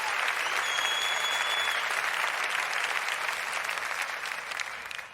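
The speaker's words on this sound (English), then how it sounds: "You deserve every bit of this applause." A studio or stage audience breaks into dense, sustained applause for a radio-style variety show. The clapping holds strong and steady, then gradually thins and fades toward the end, with no voices over it.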